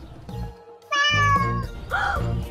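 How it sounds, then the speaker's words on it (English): Cat meowing close by, a couple of clear drawn-out meows with a brief pause between, sounding alone without any talk. "Oh, what a cute cat."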